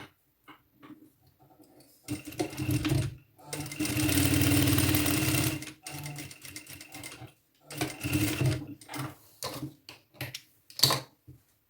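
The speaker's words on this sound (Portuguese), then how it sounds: "E passar a costura, começando da marca até a pontinha aqui do alfinete." A sewing machine stitches a seam on a midi dress in several close, loud bursts of rapid mechanical whirring, with one long steady run, separated by pauses.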